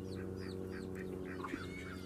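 Ducks on a small homestead quack in a steady stream of short calls, close and fairly loud over a constant low hum of background noise.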